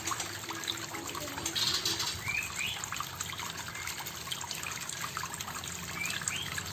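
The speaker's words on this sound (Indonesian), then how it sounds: "kita fokus ke suara gemercik air yang kita buat ini ya" Gentle homemade water feature trickles steadily over stones, a continuous bubbling murmur with faint bird calls in the background.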